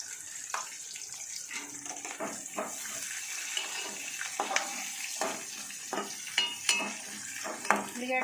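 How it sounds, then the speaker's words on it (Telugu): Onions frying in oil for a ridge gourd curry, a softer sizzle broken by repeated spatula scrapes and stirring clatter, fairly quiet and close, with no clear talk. "ఉల్లిగడ్డ వేస్తున్నా"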